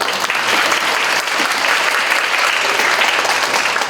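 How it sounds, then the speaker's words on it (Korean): A hall audience at an exchange-student orientation claps in a dense, steady wave of applause that fills the whole stretch at an even, loud level, with no voices standing out. "큰 박수 받으시죠"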